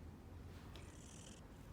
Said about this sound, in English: You can hear Matilda purring.